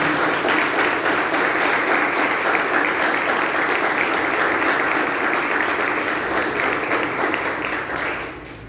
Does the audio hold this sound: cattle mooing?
no